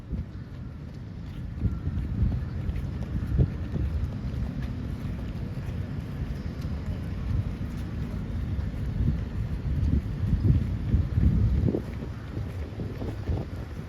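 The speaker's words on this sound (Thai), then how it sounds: "ดูทุกคนลมหนาวมาแล้วนะครับ" Cold evening wind in a park with joggers, gusting as a low rumbling buffet against the microphone, rising and falling unevenly and swelling strongest toward the end, with no talk.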